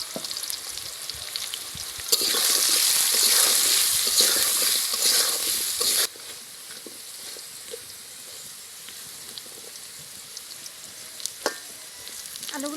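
Potatoes fry in hot oil in a pan, a loud close sizzling hiss that swells for a few seconds and then settles to a quieter bubbling, with occasional stirring scrapes and clinks and no talk.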